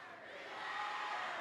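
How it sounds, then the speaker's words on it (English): Crowd noise from a high school volleyball match between Beaumont United and West Brook, a steady wash of voices and cheering that swells slightly over the moment, with no clear words standing out. "the crowd is really into it"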